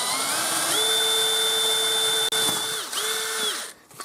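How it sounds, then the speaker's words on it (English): A power drill with a cheap bit boring through a thin metal pan under light pressure for a homemade mouse trap, a steady whining hum that rises and falls in pitch, pauses briefly, then resumes before stopping. "Pretty lousy drill bit, but I'm not pushing very hard because I don't want to bend that pan on the other side."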